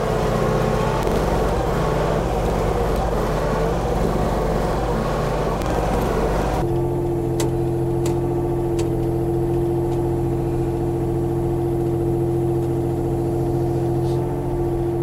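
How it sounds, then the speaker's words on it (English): A Mini X mini excavator pushes dirt, its engine a loud, close, rough rumble for the first half that shifts to a steadier humming idle with a few faint clicks. "the Mini X does a great job of pushing, you know, a bunch of dirt like this"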